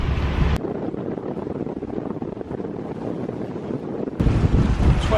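Strong headwind on a sailing boat, a continuous rough rush of wind buffeting the microphone, louder gusts at the start and end, with no voices.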